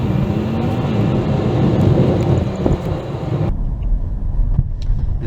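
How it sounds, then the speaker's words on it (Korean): A 2014 Hyundai Santa Fe DM Exclusive Special pulls away from a green light as auto hold releases. Steady engine and road rumble fills the cabin, thinning and quieting partway through. "파란불이 들어와서 이제 엑셀을 밟으니까 바로 오토홀드 몰드가 풀렸죠"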